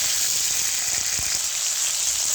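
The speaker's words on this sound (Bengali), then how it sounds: "এখন দিয়ে দেবো পটলগুলোকে একটু ভাজবো" Pointed gourd (potol) pieces fry in a pan, producing a constant close, bright sizzle with a faint crackle, steady and alone for the whole stretch.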